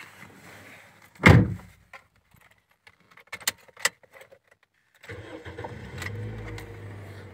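A used automatic car's engine is cranked and started after a door thud and some key jingles and clicks, then settles into a steady, moderate idle.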